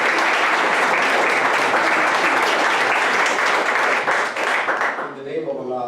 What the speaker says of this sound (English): Let's give them all a warm round of applause.